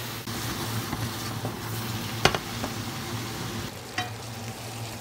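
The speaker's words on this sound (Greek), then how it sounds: "συνεχίσουμε λοιπόν να στιγμομαγειρεύουμε τώρα τα κρεμμύδια μέχρι να πάρουν ένα ελαφρό ξανθό χρώμα" Onions sautéing in a pan sizzle with a steady, soft frying hiss, broken by a few sharp clicks and scrapes of stirring; no talking.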